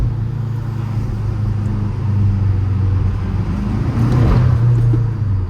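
A BMW M6 drives through a road tunnel at night with all four windows open, its low engine drone and wind rumble steady and loud throughout, swelling slightly near the end.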